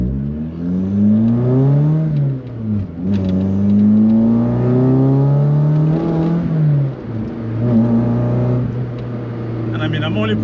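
A VW Golf MK1 engine pulls up through the revs to about 4,500 rpm several times, with rising tones as each gear is held and then dropping at each shift, loud and close, with someone talking over it.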